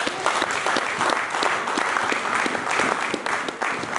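A church congregation breaks into loud, sustained applause, dense overlapping clapping that fills the space evenly from start to finish with no break.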